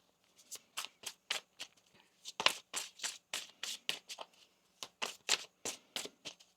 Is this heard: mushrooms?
no